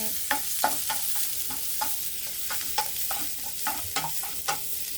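Dried red chillies sautéing in hot oil in a pan: a constant low sizzle punctuated by repeated sharp spatula stirs and taps at an irregular rhythm, close by, with no speech.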